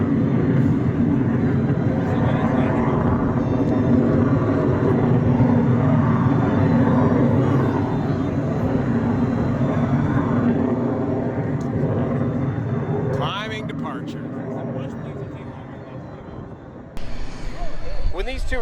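A U-2 Dragon Lady reconnaissance jet with 17,000 pounds of thrust roars loud and steady at an air expo, its broad rumble easing off later as voices from the crowd carry over it.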